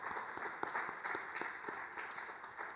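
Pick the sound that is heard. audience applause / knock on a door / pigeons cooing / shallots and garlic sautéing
audience applause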